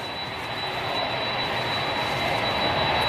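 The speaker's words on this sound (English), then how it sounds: "Now we've just got a Dreamliner behind it, just touching down." A Boeing Dreamliner touches down at Manchester Airport: a soft, distant engine rumble swells slightly over a few seconds beneath a faint steady whine, with no voices.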